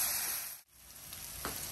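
Chili for Padang-style sambal sizzles in hot oil, a steady close frying hiss that briefly dips before resuming, with no one talking.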